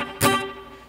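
A single muted down strum across a guitar chord, a short bright scratchy hit over ringing strings that fade quickly.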